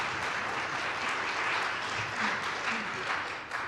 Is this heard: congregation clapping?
yes